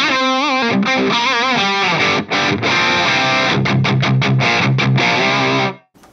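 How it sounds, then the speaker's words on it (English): A Marshall JCM2000 DSL guitar amp with its output tubes removed to reduce power plays loud, compressed, saturated power-amp distortion, first sustained bent notes, then a run of choppy rhythmic chords stopped abruptly near the end. "There's a little bit more power amp distortion in there, which is really, really nice to play with."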